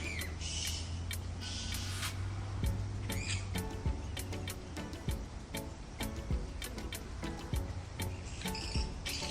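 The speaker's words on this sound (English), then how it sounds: "cricket," Crickets chirp in sharp, rapid pulses repeated throughout, fairly close and clear over a low steady hum.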